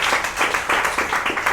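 Applause from an audience at an author talk, a brisk, dense patter of many hands clapping close by in uneven waves, steady and moderately loud throughout.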